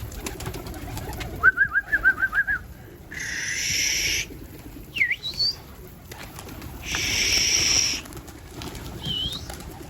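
Birds calling in short bursts: a rapid series of chirps, then a swishing rush like wingbeats, a swooping call, another rush and a final call.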